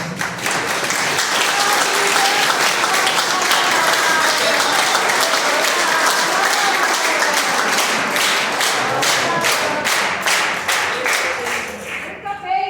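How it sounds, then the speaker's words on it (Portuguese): A church congregation applauding a priest steadily, dense clapping that continues for several seconds and thins out toward the end. "Uma salva de palmas para o Padre Anderson"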